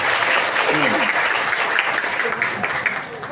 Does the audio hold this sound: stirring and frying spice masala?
no